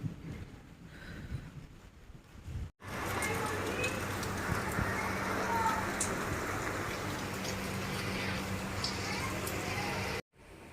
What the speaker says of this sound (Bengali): জল পড়া শুরু হয়ে গেছে বৃষ্টি পড়া